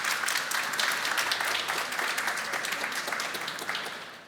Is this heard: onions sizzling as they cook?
no